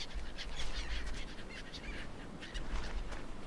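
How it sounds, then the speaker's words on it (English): Birds call repeatedly in a tropical island setting in the survival game Stranded Deep, with squawking, quack-like cries coming in bursts over steady ambient background noise. "Shut up, birds."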